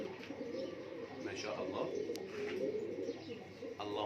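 Pigeons coo softly in a loft, low repeated murmuring calls amid faint chirps, while someone speaks over them.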